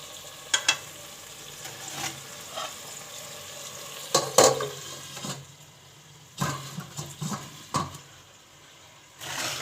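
Chicken pieces being lightly fried in a pan for a chicken curry with pointed gourd, a low sizzle under intermittent scraping and stirring knocks of a spatula, close by with no talking.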